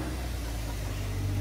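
A race car lapping a circuit produces a steady, dense engine roar, loud and unbroken through the brief moment without speech.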